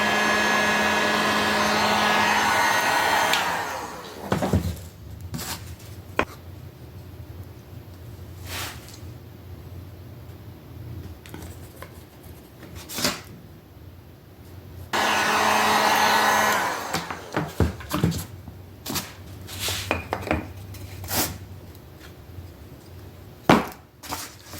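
A heat gun blowing hard on ABS plastic to soften a battery mount for bending, a loud steady whoosh in two long bursts with handling clatter and knocks in between.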